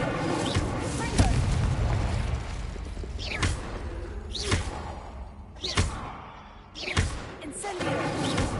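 Spell effects from the video game Hogwarts Legacy: a steady magical rumble broken by several sharp whooshing bursts and thuds, each spell cast with a shouted incantation over it.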